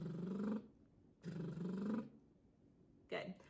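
A vocal warm-up lip trill: two buzzing, lip-fluttering voiced glides that rise in pitch, separated by a pause, then a brief third buzz at the end.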